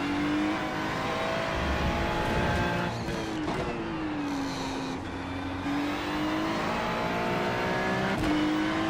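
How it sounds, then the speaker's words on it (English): Ford Mustang race cars in a racing video game roar past with a steady, loud engine drone whose pitch rises and dips, one gear change or pass midway, continuous throughout with no talk. "These Mustangs must have some great setup on because they're just flying away."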